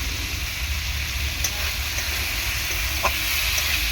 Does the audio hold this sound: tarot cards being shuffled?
no